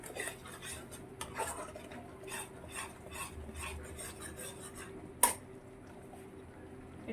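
Rohu fish korma is stirred after turmeric and chilli powder go in, quiet rhythmic scraping and soft squelching of a spoon in a pan, with a sharp metallic clink partway through.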